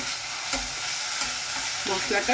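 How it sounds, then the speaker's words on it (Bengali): Ginger, garlic and green chilli paste with half a tomato being sautéed in a pan, with a dense close sizzle and repeated scraping strokes of the spatula, steady and unbroken, with no talk. "সেই মশলাটাও কষাচ্ছি।"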